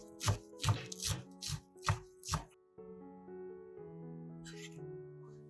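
A knife finely chops green onions on a board with about six evenly spaced, crisp strikes, set against soft background music. The music then carries on alone.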